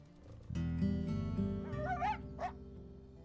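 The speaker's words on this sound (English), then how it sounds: "Oh man, we got a sick pup." A sick puppy in a game gives two short, rising whimpers over a steady, droning musical background.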